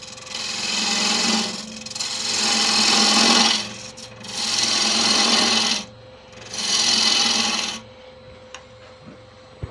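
A detail gouge cuts Tigerwood spinning on a lathe, producing four long, loud hissing, rasping passes separated by short pauses over the steady hum of the machine.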